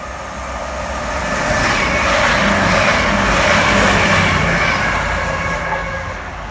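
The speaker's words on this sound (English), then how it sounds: "This is a classic TTT2 Meridian coming through Market Harborough going to Leicester." A Meridian passenger train, a class 222 on the line to Leicester, passes through Market Harborough railway station. A steady loud roar of wheels on rails swells and then eases as it goes by.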